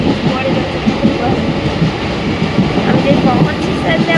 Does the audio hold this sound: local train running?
yes